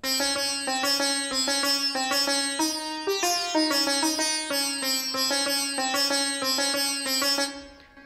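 A bright, twangy sitar virtual instrument in Kontakt plays a plucked melody at a steady pace with shimmering resonance, alone and clear.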